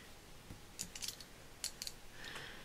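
Scissors snip through paper while a Christmas album is being crafted, giving several quiet, crisp cutting clicks in short bursts against a hushed room.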